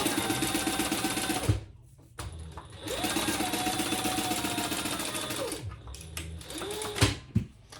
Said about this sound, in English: just do what I'm doing and stitch it down